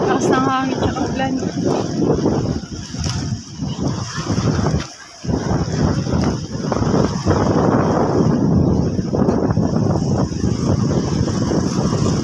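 Strong wind and rain on a street in Carigara, Leyte, a steady roaring rush buffeting the microphone throughout, with a short dip near the middle and voices talking over it.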